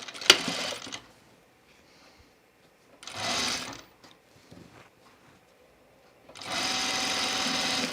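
Sewing machine stitching a French seam on dress fabric, running in three separate bursts of steady, fast mechanical whirring separated by quiet pauses with small clicks and handling noises, close and moderately loud.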